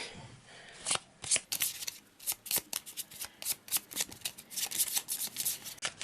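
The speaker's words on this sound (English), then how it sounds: "Extremely quick shuffle." A deck of Arkham Horror game cards is shuffled very quickly, close and crisp, with a rapid series of riffling flicks and snaps of uneven loudness, with no talking.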